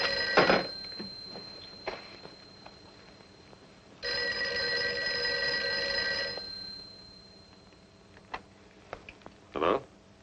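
A telephone bell rings in one sustained burst of about two seconds, close and bright, set between quiet stretches with a few soft knocks and rustles.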